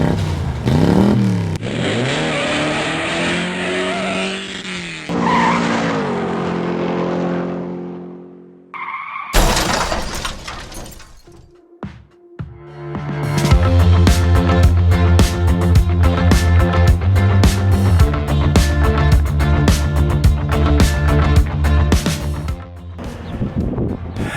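A car on a road trip heading west toward the LA hills drives loudly, with engine revving, tire noise and clattering bumps, a brief lull, then a steady, busy road roar with rhythmic knocks.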